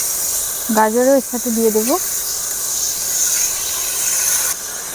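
Beans and carrots frying in a pan for fried rice produce a steady, close hiss throughout, while a voice speaks briefly over it near the start.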